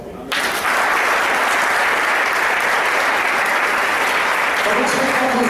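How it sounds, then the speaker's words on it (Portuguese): A church congregation bursts into sustained applause after a short quiet start, a dense, loud, steady wash of clapping that carries on without a break. "Aplauda o Senhor."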